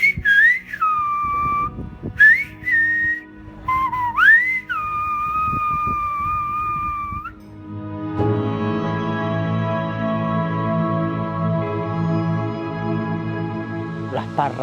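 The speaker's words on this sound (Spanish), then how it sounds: "esa gente silban como mucha gente hoy que han seguido y han conseguido pues transmitir a través del silbo cualquier cosa que usted le diga" Silbo gomero, the whistled language of La Gomera, rings out in loud, piercing sliding whistles with pauses between phrases, then gives way to a dense, buzzing tonal background.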